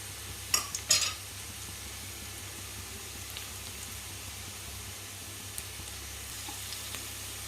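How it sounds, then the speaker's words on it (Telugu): Cashew nuts frying in a large spoonful of ghee in a pan give a faint, steady sizzle, broken near the start by a couple of brief metallic stirring clinks. "తర్వాత జీడిపప్పు వేసుకుందాం. చక్కగా ఎర్రగా వేగాలి ఇవి."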